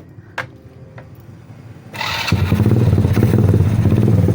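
A motorcycle fitted with rapid backfire wiring starts up after a few clicks, then idles with a loud, close, throbbing exhaust rumble and crackling pops.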